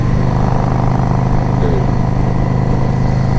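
A 2005 Yamaha V Star 650 motorcycle cruising on a ride, its engine giving a steady, loud, continuous drone with wind noise throughout, and no break in the sound.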